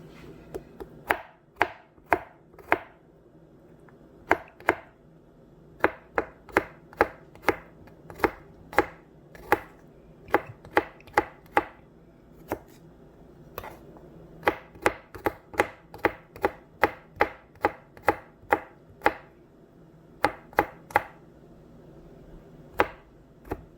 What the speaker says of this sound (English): I'm gonna cut up 3 cloves of garlic that are uncooked